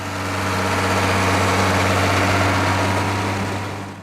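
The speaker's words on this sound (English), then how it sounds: "When the engine starts, the sound is sharp and powerful, a deep turbocharged growl that rolls across the field" An International Harvester 1066 tractor, built 1971 to 1976, with its turbocharged engine running at a steady idle, a deep low drone with strong harmonic hum, close and loud throughout with no talking.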